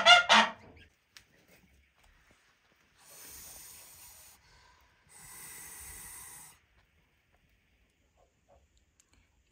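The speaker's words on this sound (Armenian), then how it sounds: "Տեսեք ոնց է արձագանքում սագը մյուս սագի ճտերին։" A goose calls out to another goose's goslings in spring, making two drawn-out, breathy hissing honks a couple of seconds apart after a short sharp noise at the start.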